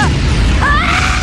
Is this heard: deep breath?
no